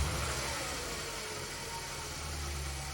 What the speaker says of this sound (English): Idling nicely, this is a cold start.